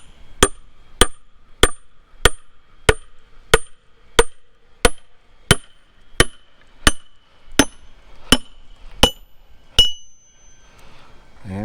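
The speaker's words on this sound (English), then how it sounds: "We're going to try to drive it home and split it down with this steel kind of wedge and sledge." A sledgehammer drives a steel wedge into a log to split it, giving about fourteen sharp metallic strikes at an even, steady pace, loud and ringing, followed by a faint crackle at the end.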